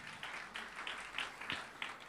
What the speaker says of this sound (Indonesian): Tepuk tangan buat Raja kita.